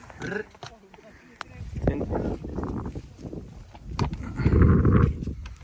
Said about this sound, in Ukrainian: Моцна кобила.